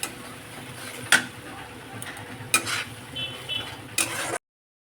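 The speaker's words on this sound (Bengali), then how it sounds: "মশলাটাকে কষাতে হবে যতক্ষণ না তেল ছেড়ে আসে।" Spice paste for a rohu fish posto dish fries in a pan with a low sizzle and a few sharp spatula knocks about a second apart. The sound is fairly quiet and cuts to silence at the end.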